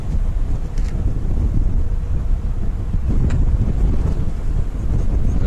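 Strong wind buffeting the microphone on a live safari drive, a steady loud low roar with gusts that swell and ease throughout, no other clear sounds.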